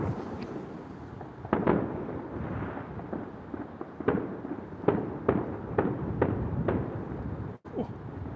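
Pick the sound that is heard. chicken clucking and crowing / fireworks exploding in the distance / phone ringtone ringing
fireworks exploding in the distance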